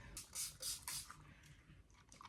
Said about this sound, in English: I'm gonna spray this down with the LYS.